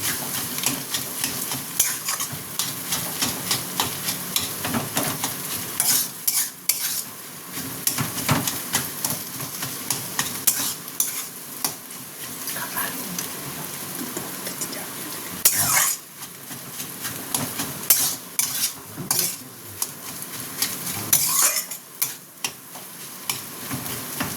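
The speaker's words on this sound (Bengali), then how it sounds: "সেদ্ধ করা আলু দিয়ে ভালো করে এটাকে ভাজবো।" Boiled potatoes frying in a pan for a vegetable bread chop, crackling sizzle with many ticking, scraping spatula strokes and occasional louder clanks of utensil against metal, irregular and close.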